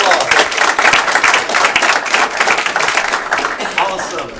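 A theater audience at a mindreading magic show claps loudly for a volunteer walking up to the stage, full and close applause with a few sharper individual claps and some cheering voices mixed in.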